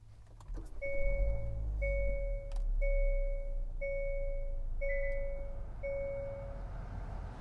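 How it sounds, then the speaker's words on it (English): A 2023 Hyundai Elantra starts by push button: a low engine rumble rises near the start, then a chime repeats at an even pace about six times over the idle. "Now to start it up, put your foot on the brake and press the button."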